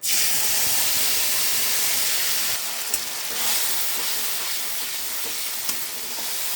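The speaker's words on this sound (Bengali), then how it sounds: "এবার আমি বাটা মশলাটা দিয়ে দেবো।" Ground spice paste hits hot oil already seasoned with garam masala and dried red chili while cooking shahi paneer, sending up a loud, continuous hissing sizzle with a couple of sharp ticks.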